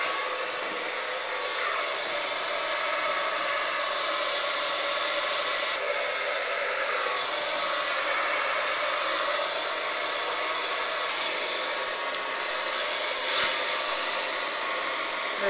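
A hair dryer set on low heat blows steadily for styling at the crown, a loud continuous whooshing close by with slight shifts in tone as it moves and no talking.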